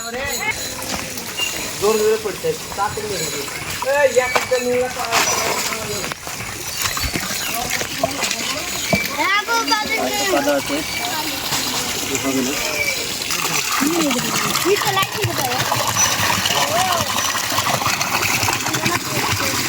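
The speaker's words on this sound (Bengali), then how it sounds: "টিউবওয়েল টিপে খুব মেহনত করে সুইমিং পুলে পানি দিচ্ছে" Water from a hand-pumped tubewell gushes and splashes steadily into a backyard swimming pool, with people talking over the running water throughout.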